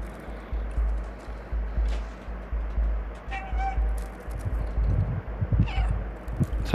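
A cat meows in the video game Stray, with a few short meows over a steady low in-game rumble and light clattering footsteps.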